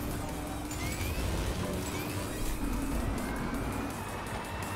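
The Bane Batmobile toy car drifts in Hot Wheels Unleashed, a loud continuous engine roar with thin rising tyre-squeal tones running through it, steady and close throughout.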